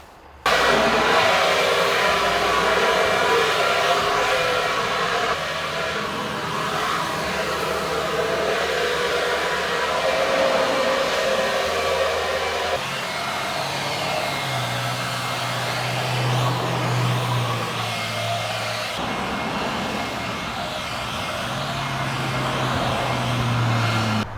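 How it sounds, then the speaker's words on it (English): A loud, steady blower roars continuously, its whine shifting slightly in pitch now and then, with no talking. "So I went to Walmart and I got a leaf blower."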